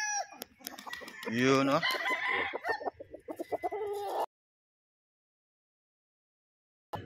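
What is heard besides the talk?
bullstag rooster clucking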